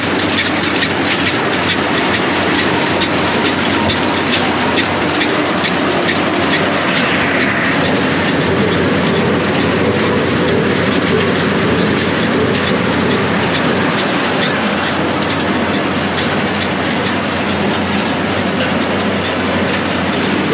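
A pea harvester runs steadily with its fan and conveyor belt, a loud continuous mechanical roar and rattle with a broad hiss, close by and constant throughout with no talking.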